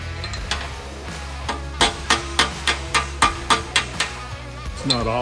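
A hammer strikes the back of a dented 1923 Model T steel body panel: about nine sharp metallic taps in a steady rhythm, close and loud over a low background hum.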